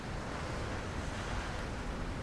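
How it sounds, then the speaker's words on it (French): Stormy wind and churning water from the Tomb Raider video game, a steady, dense roar of gusting wind and surf-like wash that stays loud and unbroken throughout, with no voices. "C'est peut-être du vent pour la tempête."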